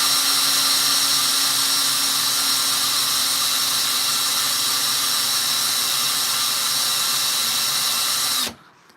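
A power tool held at an angle polishes the reeded edge of a coin ring through fine grits, a steady high-pitched whine with hiss that runs unbroken at close range for about eight seconds, then stops.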